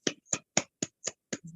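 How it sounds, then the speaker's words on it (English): A single person claps slowly and evenly at a virtual international conference, six or seven distinct, close hand claps spaced about a quarter second apart, with quiet gaps between them and nobody speaking. "Let's give you a round of applause."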